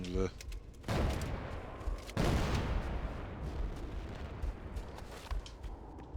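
Sustained bursts of SAW light machine gun fire in Halo CE, loud rapid automatic shots in two main volleys with dense crackling between, mixed with game combat noise and a quieter voice.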